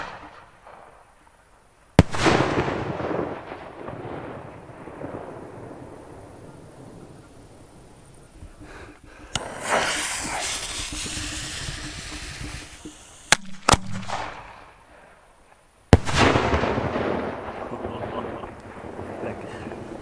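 Salute shell fireworks, 2 to 5 inch, fired at a 2020 show in France: several loud, sharp booms with rolling rumble tails, spaced apart and including a quick double report, over steady wind noise.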